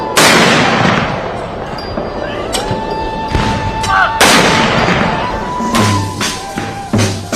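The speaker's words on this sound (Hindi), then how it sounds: "भारतीय सेना ने 17 तोपों की सलामी देकर अपने पहले सीडीएस को आखिरी विदाई दी।" Artillery guns firing a 17-gun salute at a military funeral for India's first Chief of Defence Staff, heavy booming blasts spaced a few seconds apart and echoing outdoors, with faint tones in between.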